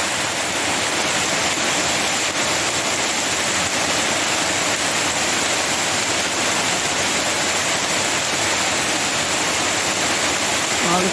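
Steady rain shower in Sunderland, a dense, even hiss of falling water that holds at constant loudness throughout, with no distinct drops standing out and no voices.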